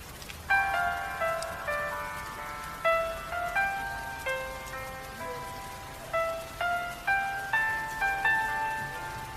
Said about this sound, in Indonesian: Hujan ini tiba-tiba turun sangat deras.